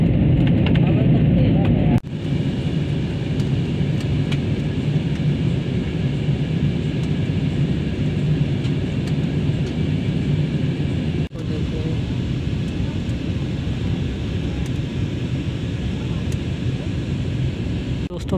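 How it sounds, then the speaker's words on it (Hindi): Airplane cabin noise during descent toward landing at Delhi airport, a loud, steady broadband roar that continues throughout, with brief dips where the sound cuts. "फाइनली हम लैंडिंग करने वाले हैं, आप देख सकते हो जहाज कितनी नीचे लैंडिंग, दिल्ली एयरपोर्ट"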